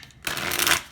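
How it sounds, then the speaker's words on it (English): Tarot cards riffle-shuffled close up, a brief quiet pause and then a dense, crisp flutter of card edges lasting under a second. "I'm getting told to shuffle again."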